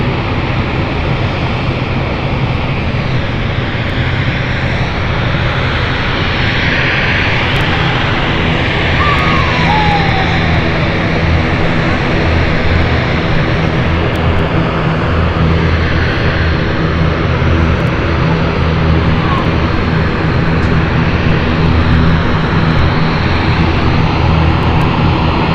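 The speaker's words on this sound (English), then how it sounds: "ATR of Logan Air is going into the stand" A Logan Air ATR turboprop airliner taxis to its stand at London City airport, its steady propeller drone loud and continuous throughout with a broad, even hum.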